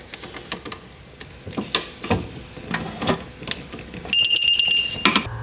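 A torque wrench ratchets a bolt to 88 foot-pounds on a Nissan Pathfinder trailing arm. A series of sharp, irregular metallic clicks is followed by a steady high electronic beep lasting about a second.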